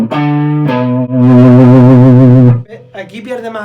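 A 1959 Gibson ES335 electric guitar played through distortion, sustained thick notes with vibrato ringing loudly, then a short burst of quieter picking at the end.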